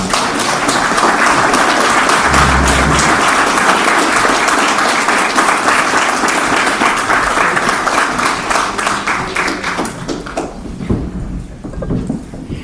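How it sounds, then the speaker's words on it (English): Sustained audience applause at a Van Buren County Republican county judge and sheriff debate, dense steady clapping from a crowd lasting about ten seconds before thinning out and fading. "I think now is a great time for some applause."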